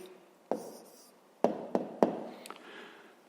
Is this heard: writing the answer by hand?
yes